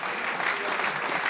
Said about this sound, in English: I'd please give him a round of applause